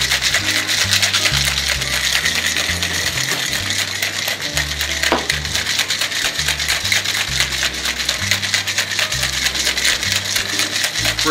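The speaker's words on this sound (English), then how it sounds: "And then I'm going to shake it up" Cocktail shaker vigorously shaken with Louisville Cooler ingredients, including lime juice and sugar, giving a steady, loud, continuous rattle of ice churning inside the metal tin for several seconds.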